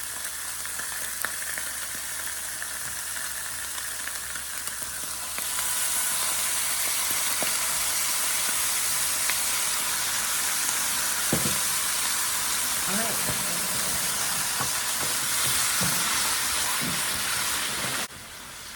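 Cheese, salsa and cream cheese cook together in a hot skillet, giving a steady broadband sizzling hiss that grows louder partway through, with a few scrapes of stirring and no talk.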